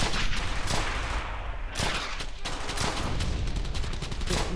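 Sustained video-game gunfire from Brothers In Arms: Hell's Highway, a WWII shooter: dense, rapid bursts of rifle and machine-gun shots in a steady loud barrage with no talking.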